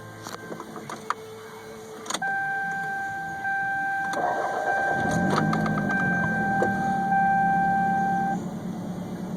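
An older Toyota car engine doing a hot restart, with a brief cranking burst before it catches and settles into a steady idle, with a sustained electrical whine alongside.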